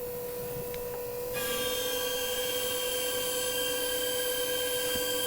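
Mercedes W126 280SEL engine held at full throttle on a fuel distributor test after repair, a loud steady high-pitched whine that steps up in intensity after a second and then holds constant, no voices.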